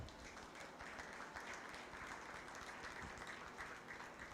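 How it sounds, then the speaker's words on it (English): Faint, distant applause from a crowd at a county 4-H fair meat goat show, a steady wash of clapping that holds at an even level throughout. "give them a big round of applause"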